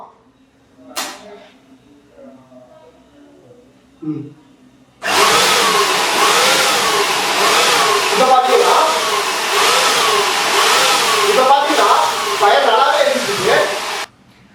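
A homemade LPG gas stove fed by a powerful air pump, which roars on suddenly and blows steadily for about nine seconds before cutting off, preceded by a few faint clicks and handling sounds.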